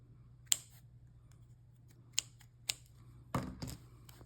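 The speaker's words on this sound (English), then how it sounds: "need some new scissors." Scissors snip through crochet yarn in four sharp, close clicks spread over a few seconds, the last one a longer double cut, against a quiet room hum.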